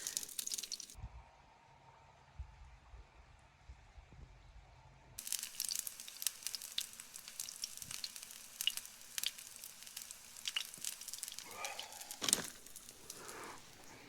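Food sizzling and frying in a pan on a camping stove inside a hot tent in Scotland, a faint steady crackle with occasional louder pops and scrapes, no voices.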